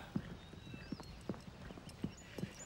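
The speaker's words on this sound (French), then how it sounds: "Quel magnifique cheval." Horse hooves clip-clop at an unhurried walking pace, a handful of soft hollow knocks against faint background noise.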